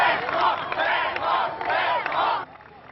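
A crowd in the rain welcomes balloonists returning home, chanting and cheering in rhythmic, rising waves of massed voices before the sound drops away suddenly.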